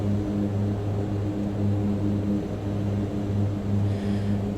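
Twin turboprop engines of a Mitsubishi MU-2 throttled back in Microsoft Flight Simulator near Mauna Kea, Hawaii, a steady low droning hum holding even and fairly loud throughout, with no talking.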